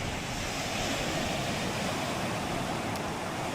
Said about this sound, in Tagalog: Walang hanap buhay ang mga taga-Bukana ngayon kasi malalaking alon.